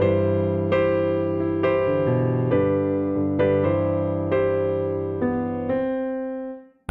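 Solo piano plays a gentle interlude from a song, with steady chords struck about once a second and left ringing, close and clear before fading out.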